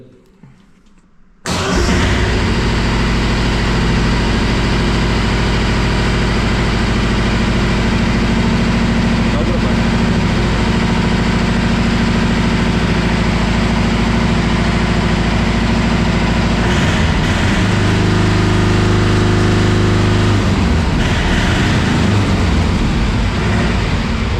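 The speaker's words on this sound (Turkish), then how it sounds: "Motorun da ilk marşa basacağız." A car engine cranks and catches after a quiet moment, then settles into a loud, steady idle that drones on close by during a battery and starter test, with brief shifts in tone near the end.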